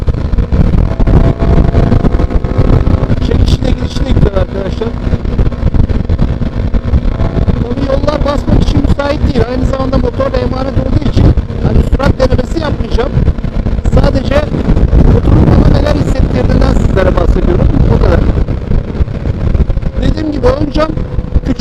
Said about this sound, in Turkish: motorun sesi güzel